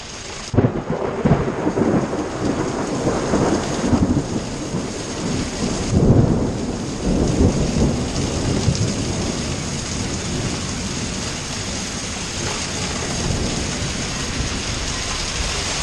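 Heavy rain pours steadily with rumbling thunder rolling in and out, a loud crack early on, the downpour constant throughout.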